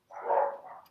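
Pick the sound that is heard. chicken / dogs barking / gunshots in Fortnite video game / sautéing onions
dogs barking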